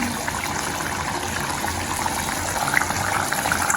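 A pot of Tamil-style fish curry made with wolf herring simmers and boils, giving a continuous bubbling, gurgling wash of liquid with small pops, fairly close and steady, with no talk.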